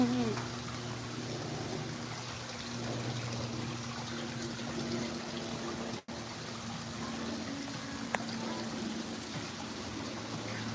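Small waterfall at a cafe, a steady rushing and trickling of water heard close and continuous, with a constant low hum underneath and a brief dropout partway through.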